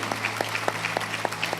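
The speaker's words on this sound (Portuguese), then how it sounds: "Aplaude a Deus por isso, aplaude." Worshippers in a church service applaud God, a brief burst of rhythmic, evenly spaced claps from a small group.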